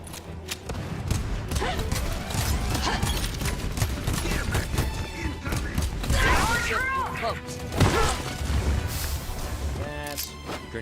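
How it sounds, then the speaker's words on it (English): Grenade explosions in Helldivers 2 burst repeatedly in a chaotic firefight, heavy thuds and crashes mixed with rapid gunfire and mechanical clatter, with a voice speaking over the battle. "That's grenades for you. More grenades for you."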